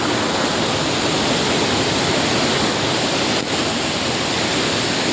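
A steady, loud rush of water falling through gaps in granite rock roars without pause, a dense, even wash of noise close by, at Poovatharkund waterfall in Maloor, Kannur.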